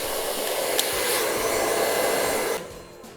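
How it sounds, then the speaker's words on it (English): A hair dryer blows steadily and loud up close while styling the front section of hair, then cuts off near the end, no talking. "we've pretty much done the whole entire blow dry, and now we're just gonna do the last section in the front"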